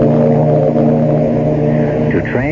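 Ship sound effect in a radio mystery drama: a steady low droning rumble with sustained tonal hum, like an engine or horn aboard a vessel, continuing evenly throughout.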